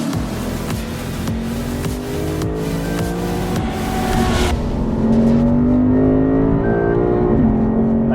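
A Lexus RC F with a titanium exhaust accelerates hard on the Laguna Seca track, its engine note climbing through rising pitches, then shifting and pulling again, loud and close from inside the car.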